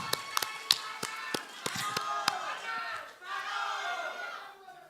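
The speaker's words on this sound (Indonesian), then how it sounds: "Boleh tepuk tangan, silakan." Sharp, scattered claps ring out from an audience at a regional election debate, a handful of distinct hand claps followed by a brief murmur of crowd noise that fades away.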